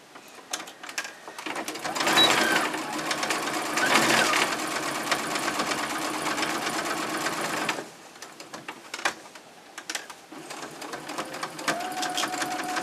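Close, steady whirring of a sewing machine stitching a cloth pad along traced lines of the backer, running continuously with a brief slowdown partway through, no voices.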